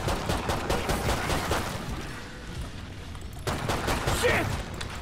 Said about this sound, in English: Ooh, this is pretty intense with the pistol.